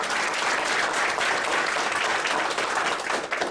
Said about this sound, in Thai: Give a round of applause for all of you.